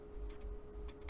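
Several quick, faint ticking clicks from the scroll wheel of a Logitech Signature M650 L mouse, close up and isolated over a low background hum.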